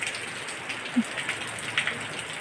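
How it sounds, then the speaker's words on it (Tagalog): Rain falls on a road in a steady, soft hiss, fairly faint, with a few sharper drop sounds standing out. "Naabutan kami ng malakas na ulan doon sa daan."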